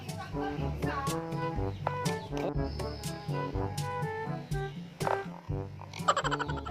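Frogs croak in a busy chorus close by, with repeated rhythmic calls layered over one another, and a few sharp clicks and knocks mixed in.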